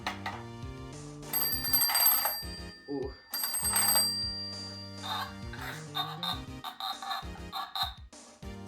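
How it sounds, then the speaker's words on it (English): A Fisher-Price Chatter Phone pull-toy telephone from 1961 plays a bright electronic ringing tune with bell-like tones, repeating in short bursts, close by, with a brief exclamation from a person partway through. "chatter phone."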